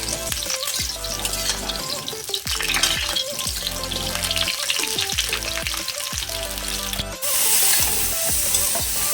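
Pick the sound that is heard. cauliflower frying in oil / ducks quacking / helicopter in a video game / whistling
cauliflower frying in oil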